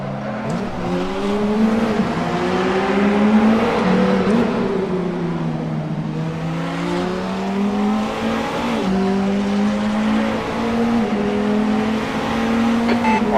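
Race cars, including Audis, battle for position with loud, continuous engine roars that swell and dip as they accelerate and back off, plus brief hints of tyre squeal and no talking.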